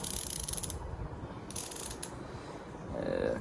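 A Vessel TD-6808TX ratchet screwdriver with 72 teeth clicks through its mechanism, producing fine, quick, light ticking bursts close up, in short separate runs rather than one steady stretch.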